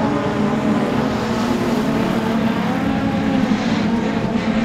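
Race cars roar around a track in a loud, continuous engine drone with a steady motor hum and no clear pass-by peaks.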